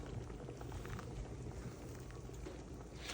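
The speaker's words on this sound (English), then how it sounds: "I'm gonna go ahead and drain the macaroni noodles." Boiled macaroni noodles are poured into a drain, a steady close rush and splatter of hot water that holds at a constant level throughout.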